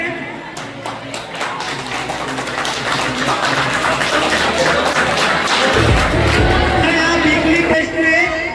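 Audience applause at a school felicitation ceremony, dense clapping from a crowd building over several seconds with a deeper thumping burst near the end, a voice heard over the start.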